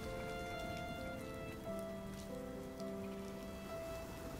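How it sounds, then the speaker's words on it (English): Rainfall in the video game RiME, a steady, even hiss of drops hitting surfaces beneath sustained soft musical tones, with no talking. "So hearing the sound of rain to me,"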